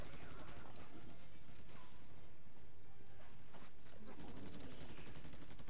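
Gunfire rattles in the video game Battle LA, with dense, continuous bursts of shots layered over loud in-game action noise at steady volume.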